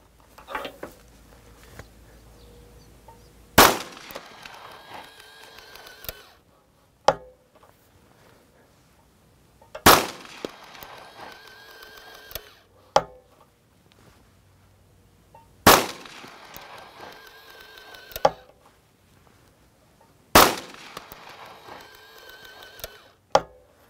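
Four loud, evenly spaced pistol shots from a Nighthawk Custom 1911 firing .30 Super Carry handloads, each a sharp crack with a short echoing tail, separated by quieter clicks and handling noise between rounds.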